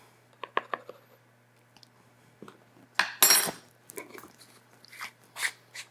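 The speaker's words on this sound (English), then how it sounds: "And then we're just gonna mix up these dry ingredients." A utensil scrapes and clinks against a bowl while dry baked-oatmeal ingredients with cinnamon and brown sugar are mixed, irregular crunchy stirring strokes and taps heard close in a quiet room.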